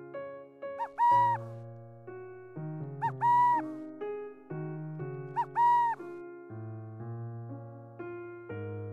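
A burrowing owl gives a series of clear tonal calls in an open outdoor setting, several spaced hoots and coos repeating at a measured pace, fairly near and alone.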